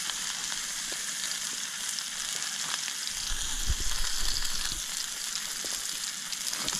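Steak drops into a preheated pan at an outdoor campsite and sears with a loud, even sizzle, a brief surge of crackling as it lands, then steady frying hiss.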